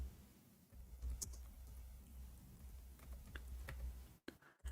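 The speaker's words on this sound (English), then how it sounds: "No, I'm typing in Arabic." Typing on a computer keyboard, typing in Arabic: a quiet, steady patter of key clicks over a low background hum, with a few louder taps near the end.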